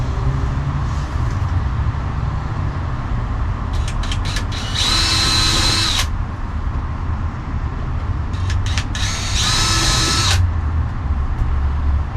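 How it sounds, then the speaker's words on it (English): A power drill pre-drills wood in two short bursts, each a second or so, over a constant steady background hum. "So I'm just going to line it up and pre-drill it."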